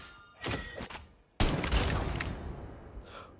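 Weapon kill effect from Call of Duty Mobile, a mythic Flame Lotus skin, bursts out as two loud gunfire-like blasts with crackling, shattering debris. The second burst is stronger and rings on for about two seconds before fading.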